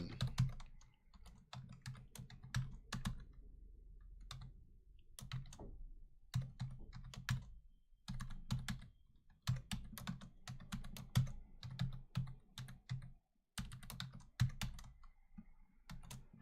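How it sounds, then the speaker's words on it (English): Close, quick typing on a computer keyboard as a long hex string is entered, bursts of crisp key clicks broken by short pauses, with a low hum underneath and no talk. "we'll type that in"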